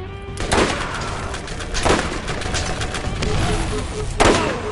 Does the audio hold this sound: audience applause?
no